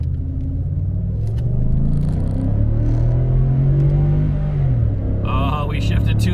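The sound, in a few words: 2013 Ford F-150 truck accelerating 0-60 in manual mode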